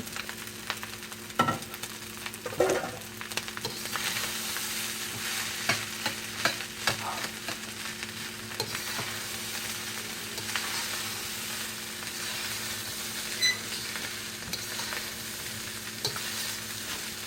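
Egg frying and stirred in a hot pan for Yangchow fried rice: a soft continuous sizzle broken by sharp scraping and clattering of a utensil against the pan, with no talking.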